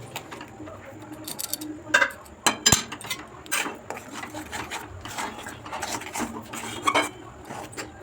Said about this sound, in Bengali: জল নুন দিয়ে ভালো করে গরম করে নিচ্ছি তাতে খানিকটা ময়দা দিয়ে ভালো করে নাড়াচাড়া করে নিতে হবে